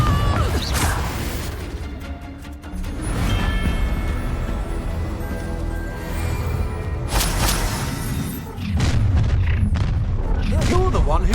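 A Confringo fire spell from Hogwarts Legacy bursts in several loud, booming blasts with crackling debris, layered over dense game music and effects.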